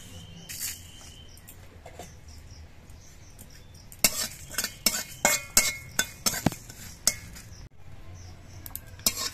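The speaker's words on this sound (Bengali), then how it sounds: "চাটনি রান্নার জন্য আমি প্রথমেই শুকনো কড়াইতে কিছু মৌরি আর দুটো শুকনো লঙ্কা ভেজে নিচ্ছি।" Fennel seeds and two dried chillies dry-roasting in a dry wok, with a spatula scraping and clinking against the metal in a run of quick, regular strokes after a quiet start.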